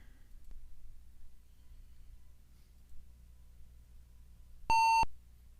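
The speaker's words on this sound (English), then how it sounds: "Sorry for the loud beep." A single loud electronic beep from a Windows 95 computer after a crash, sounding for about half a second near the end over a low, quiet background hum.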